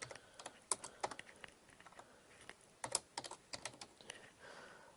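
Computer keyboard typing in short irregular bursts of crisp key clicks, close and clear with brief pauses between, no voices.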